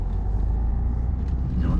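A car rolling slowly during a driving lesson, giving a steady low engine and road rumble from inside the cabin with no one speaking.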